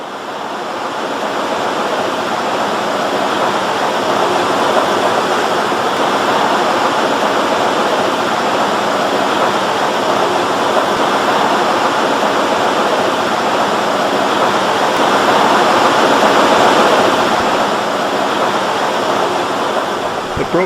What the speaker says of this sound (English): There are many very noisy ball mills breaking up the ore.